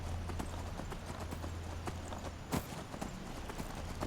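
A horse in Skyrim trots along, its hooves clip-clopping in a quick, even rhythm through the whole stretch at moderate distance, quiet overall with one louder hoof strike midway.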